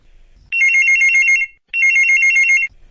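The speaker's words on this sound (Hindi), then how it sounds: "देखते पहले किस भैया का फोन आ रहा हो।" Telephone ringing with an incoming call before a farmers' radio programme, two long electronic trilling rings separated by a short pause, clear and close with no talk.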